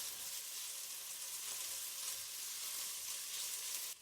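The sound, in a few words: bacon frying in olive oil in a hot pan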